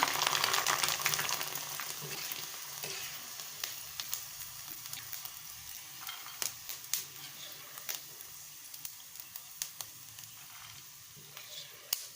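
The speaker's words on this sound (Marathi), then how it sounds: "बघा आता आपण साबुदाणा तळून बघूया साबण अगदी मोत्यासारखा फुलत आहे" Soaked sabudana (tapioca pearls) fry in hot oil for chivda, making a loud continuous sizzle that is strongest at the start and then settles, with scattered sharp pops and crackles throughout.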